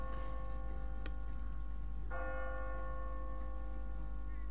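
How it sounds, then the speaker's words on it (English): Automatic timer-driven church bell in The Walking Dead game, two clear tolls a couple of seconds apart, each ringing out with a long sustained hum over a low steady rumble. "What kind of church bell goes off at 20 past the hour?"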